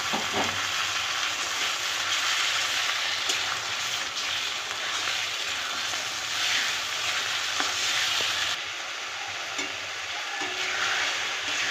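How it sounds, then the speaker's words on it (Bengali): Ginger, garlic and onion paste with slit green chilies frying in a pan for chicken curry, giving a loud continuous sizzle with occasional stirring scrapes. "এই যে আদা বাটা, রসুন বাটা, পেঁয়াজ বাটা আর চেরা কাঁচা লঙ্কা সব একসঙ্গে দিয়ে দেবো।"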